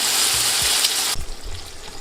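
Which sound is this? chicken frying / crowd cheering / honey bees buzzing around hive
chicken frying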